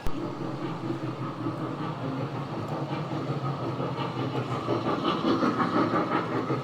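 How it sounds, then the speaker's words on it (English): A small kiddie ride-on train rolls along nearby in an AEON shopping mall in Cambodia, with a steady mechanical rumble and light clattering, against an indoor crowd murmur that grows slightly louder. "The kids get to go on a train ride."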